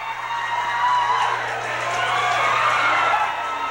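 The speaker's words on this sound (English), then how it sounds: "Listen to this crowd." An arena crowd at a Southwest Championship Wrestling event after a title change cheers and shouts in a steady, swelling roar, loud and continuous, with scattered whoops and no clear talk over it.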